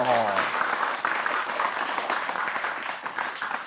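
Steady applause from an audience at a Buddhist dharma talk, many hands clapping densely and continuously at moderate volume, with a voice briefly heard at the start.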